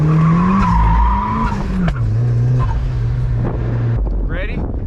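A boosted Mazda Miata drifting, engine droning steadily at high revs while tires squeal and skid, loud and close throughout, with brief voices mixed in.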